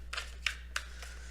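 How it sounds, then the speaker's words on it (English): Tarot cards are shuffled in quick, soft bursts, three or four crisp papery riffles close to the microphone over a low steady hum, with no talking. "Let's go ahead and shuffle these cards here."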